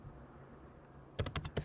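A few quick keystrokes on a computer keyboard, typed into a Windows start menu search, come as a short close burst of clicks at the very end after a quiet stretch.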